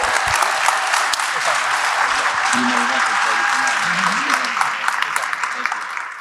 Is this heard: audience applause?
yes